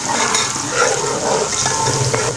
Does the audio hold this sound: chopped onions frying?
yes